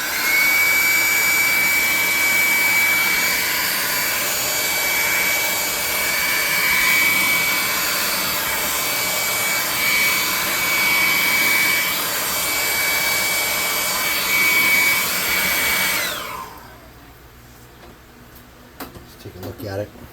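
Compressed air hissing steadily at close range over painted parts of a small model sailboat for about sixteen seconds before cutting off, leaving faint handling noises.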